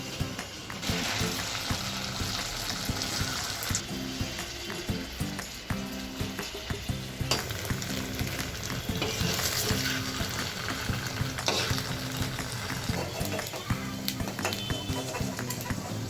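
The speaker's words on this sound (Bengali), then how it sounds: "একইভাবে আমি বাকি বলগুলো ভেজে নেব।" Oil bubbles and sizzles steadily as chhena kofta balls deep-fry in a pan, a close, continuous crackling with occasional clinks of stirring.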